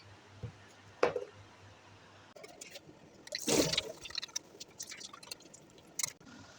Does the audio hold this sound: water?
yes